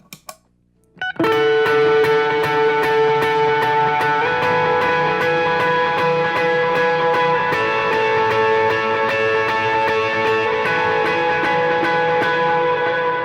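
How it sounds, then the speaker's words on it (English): After a brief pick or two, an overdriven electric guitar run through effects bursts in loud and dense. It holds a thick, sustained distorted chord wash with hard, rhythmic right-hand attack, alone and unbroken. "with effects and overdrive and a lot of attack on my right hand"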